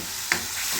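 Food stirred in a frying pan over a steady sizzle, with one quick scrape of the utensil against the pan cutting through the constant hiss.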